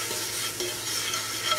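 Wine, about a tablespoon or two, hits a hot pan of wild mushrooms taken off the flame, giving a steady close hiss of sizzling and steaming with faint stirring scrapes and no talk.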